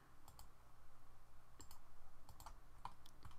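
Quick bursts of computer-keyboard key clicks while entering AutoCAD commands during a 3D modelling session, arriving in short irregular clusters against a steady low background hum, with no voices.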